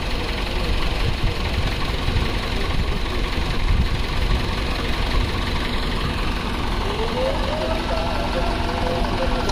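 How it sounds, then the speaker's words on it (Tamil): A Swaraj 744 FE tractor engine runs steadily up close, a continuous low knocking diesel drone with a faint rising whine partway through. "அடுத்த பார்த்தீங்கன்னா சூராஜ் வண்டி வருதுங்க 744 FE."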